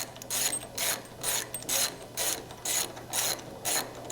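A hand ratchet tightens suspension bolts on a Mk5 car build, clicking in about eight quick, evenly spaced bursts of pawl clicks, close and clear, with no voices.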